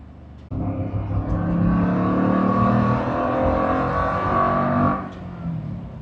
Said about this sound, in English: that exhaust note you just heard comes from a Borla exhaust system, and it's been tuned specifically for this engine application